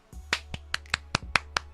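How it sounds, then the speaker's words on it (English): A single person claps their own hands during a radio show. The claps are sharp and separate, about eight in a quick, fairly even rhythm, close and crisp, with no talk and only a faint hum underneath. "giving myself a hand clap"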